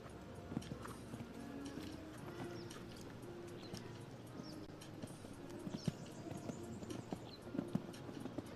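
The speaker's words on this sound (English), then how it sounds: "Goes for it in the extended canter." Hooves clip-clop at a canter across a dressage arena during an FEI eventing Nations Cup test in Strzegom, a quiet, fairly distant rhythmic beat under faint crowd ambience.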